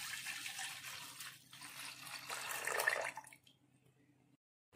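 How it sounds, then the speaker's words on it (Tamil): Water, about 400 ml, splashes into a pot holding crushed ginger and cardamom for an immunity tea: a steady close pour for roughly three seconds that then stops, leaving quiet. "அதோட 400 மில்லி தண்ணி ஆட் பண்ணிக்கிறேன்."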